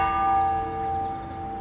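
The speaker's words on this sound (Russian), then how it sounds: "Во всех храмах Бобруйска прозвучал колокольный звон." A church bell in Bobruisk rings with a long, sustained metallic tone that hums and slowly fades.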